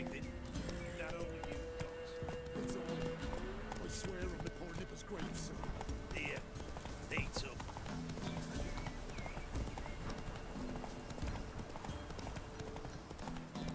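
A horse gallops in The Witcher 3 with rhythmic clip-clop hoofbeats and brief snorts or whinnies, mixed low under game ambience and game audio.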